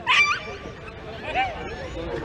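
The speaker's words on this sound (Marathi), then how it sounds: "कुत्रे हाकलायचे बाहेर" Stray dogs on a cricket field during a local tournament match give a sharp yelp at the start, followed by whimpering yips beneath steady crowd and commentary noise.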